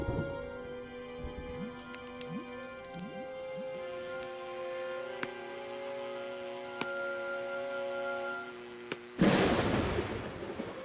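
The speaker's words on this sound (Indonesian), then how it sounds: "Badai akan datang." A cartoon rainstorm in Moonzy: tonal music plays for most of the stretch, then a sudden loud burst of downpour breaks in near the end.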